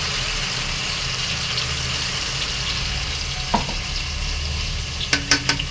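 Ground masala sizzles steadily in frying oil while being stirred, and a few sharp utensil clinks come near the end.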